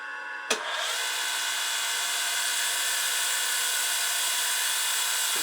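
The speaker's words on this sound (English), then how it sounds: "we're going to have to grind with the guard off of it." Angle grinder with its guard removed, grinding a metal ER32 collet block: one sharp contact at the start, then a loud, steady high-pitched whine and grinding hiss held close up for several seconds, no talk.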